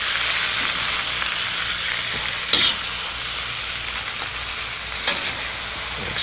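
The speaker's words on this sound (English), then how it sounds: "Now we need to fry our noodles up, get them nice and hot with the rest of the ingredients here" Noodles with bean sprouts and other ingredients being stir-fried in a hot pan for an Asian-style dinner: a loud, continuous sizzle with a few sharper clatters of tossing and stirring, close up and without speech.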